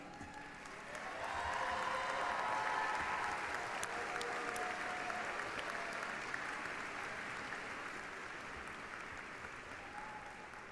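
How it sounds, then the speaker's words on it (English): A graduation crowd of students in an arena gives faculty and staff a standing ovation, a sustained wash of many hands clapping that swells in after a second and holds steady, moderately distant. "I would ask that our students give a standing ovation for the faculty and staff"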